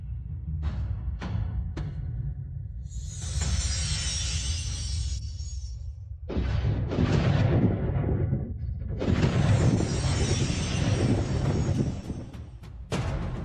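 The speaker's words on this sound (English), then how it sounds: "Summon the Grand Yin Divine Thunder." Magical divine thunder strike effects in a drama, with booming low rumbles, sharp cracks and hissing crackling bursts that swell, cut off, then return even louder, close and with no talking.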